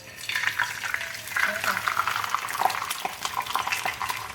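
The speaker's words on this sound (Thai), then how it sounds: "พอน้ำมันขึ้นฟองอย่างเงี้ยแสดงว่าเขาร้อนแล้วนะคะ เราก็จะใส่ปลาลงไปค่ะ" Snakeskin fish (pla salid) deep-fries in hot oil with a continuous close crackle and bubbling, broken by occasional clinks of a utensil against the pan.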